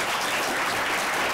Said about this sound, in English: please join me in a warm round of applause for our guests